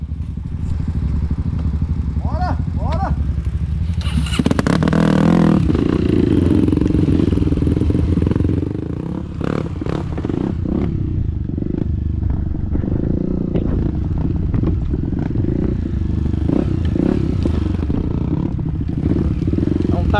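A trail motorcycle at an off-road trail riders' gathering revs and rumbles close by with uneven clattering bursts, while people talk over the engine noise.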